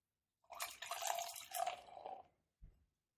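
Homebrewed hazy IPA beer pours into a glass in a close, gurgling stream lasting about two seconds, followed by a soft knock as the glass or bottle is set down.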